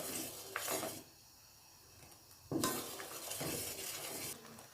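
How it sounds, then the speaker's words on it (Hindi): A spoon stirs thickening custard in a pot, heard as bursts of scraping and clinking against the metal with a quiet pause in between, close and moderately soft. "चम्मच है मैं मतवातर हिलाती जाऊंगी जब तक ये मज़ीद गाढ़ा ना हो जाए"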